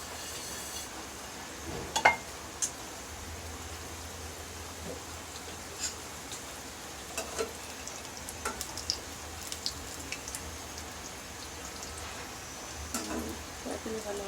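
Pieces of nimki dough fry in a pan of oil with a soft, steady sizzle, broken by a few sharp clinks of a utensil against the pan.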